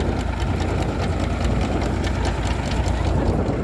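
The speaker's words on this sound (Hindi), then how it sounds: "जो इतना बड़ा भाई ये है फार्म ट्रैक 50, बहुत बढ़िया ट्रैक्टर है।" A Farmtrac 50 tractor engine runs steadily while powering a potato harvesting machine in a field, giving a continuous loud mechanical drone with a faint rhythmic clatter throughout.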